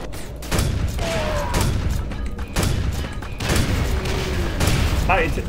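Grenade launcher explosions in the shooter Quake 4, several loud booming blasts in quick succession, each with a heavy low thump and a rumbling tail, mixed with other game effects.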